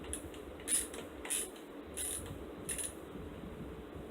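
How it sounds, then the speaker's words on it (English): A ratchet clicks faintly while mounting a PC fan in a Deepcool Tesseract case, turning the wrong way: four short, evenly spaced ticks over a steady low hiss. "That's ratcheting the wrong way"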